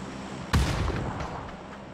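A single grenade blast in the shooter game PUBG: one sharp, booming detonation lands close and loud, then a rumbling tail rolls off over the next second, with no talking.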